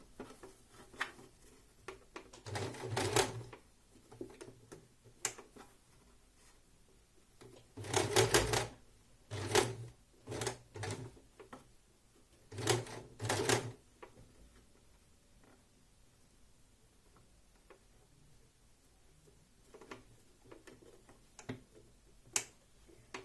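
A sewing machine stitching kimono fabric in short rapid bursts of rattling clicks, separated by pauses and light handling taps, close and fairly quiet with no voices.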